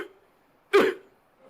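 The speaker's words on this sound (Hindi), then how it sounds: "लेकिन अगर आप छाती पे खांसो ऐसे," A single short, sharp cough pushed from the chest, demonstrated during a medical check, stands alone against near silence.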